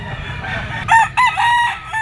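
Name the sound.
rooster crowing, lemon sweater stag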